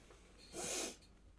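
A single short sneeze bursts out once in the middle, close and fairly loud, with quiet room tone before and after.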